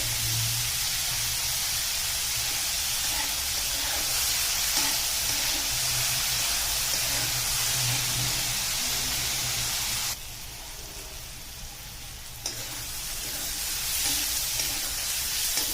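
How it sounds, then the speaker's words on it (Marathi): Onion sautéing in a pan with salt gives a steady, close hiss of frying that fades briefly near the end before returning, with no speech. "कांदा छान परतून घेऊयात आपण कांदा परततानाच ह्याच्यात मीठ घालते जेणेकरून कांदा छान परतला जातो"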